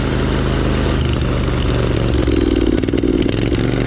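Craftsman LT4000 riding lawn tractor engine running at speed around 15 mph and 3,100 RPM, a loud steady mechanical drone with clattering that grows rougher and more pulsing toward the end, no talking.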